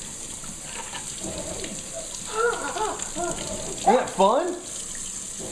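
Tap water runs into a kitchen sink while someone washes their hands, a soft continuous hiss heard beneath a person talking.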